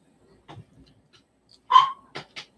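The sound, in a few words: dog barking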